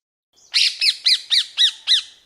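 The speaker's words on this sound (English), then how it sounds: "The rose-ringed parakeet is a charismatic bird with a vibrant green plumage and a distinctive red beak." A rose-ringed parakeet gives six harsh, evenly spaced squawks in quick succession, loud and close with nothing else around.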